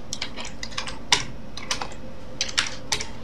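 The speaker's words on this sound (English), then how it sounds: "Okay, so now we can keep on typing the code." Typing code on a computer keyboard in a Borland C++ 5.02 editor on Windows: quick, irregular clicking keystrokes with a few louder taps, close up and alone with no talking.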